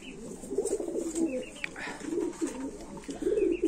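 Pigeons coo on and off at close range among a group of large satin pigeons kept for sale, a steady murmur of low calls running throughout.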